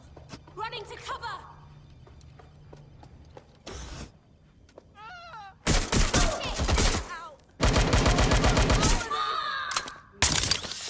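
Game gunfire from Watch Dogs: Legion, with several loud bursts of automatic fire and shots in the second half, mixed with shouted voices and game sounds.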